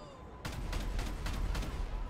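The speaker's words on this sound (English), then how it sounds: "I'm shooting at him" Rapid video game gunfire aimed at an enemy rattles out in a quick, evenly spaced string of loud shots with a rumbling background.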